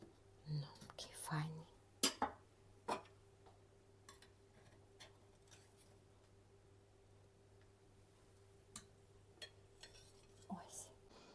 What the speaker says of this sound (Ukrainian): Будемо нарізати, його можна і теплий нарізати.